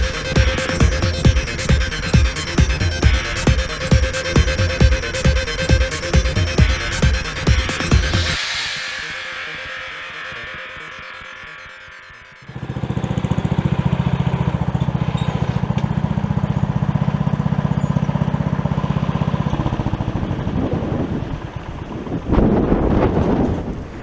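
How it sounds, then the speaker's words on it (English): Strong gusting wind outdoors buffets the microphone in heavy low roaring blasts, dropping off briefly before surging back into a sustained rumbling rush. "It is absolutely windy as hell out here today. It's gusting pretty strong"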